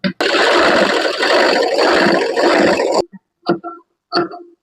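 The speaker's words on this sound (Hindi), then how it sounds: "फिटिंग सिलाई कर लेनी है।" Sewing machine stitching the fitting seam on a puff blouse, a fast, loud mechanical whir running steadily for about three seconds, then stopping, followed by a few short clicks and taps.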